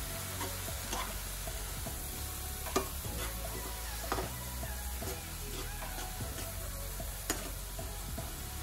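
Beetroot sizzles quietly in a pan as turmeric and chili powder are stirred in, soft frying hiss punctuated by occasional spoon scrapes and taps.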